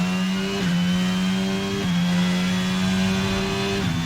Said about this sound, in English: Powering out of these corners.